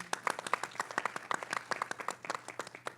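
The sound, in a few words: applause at press conference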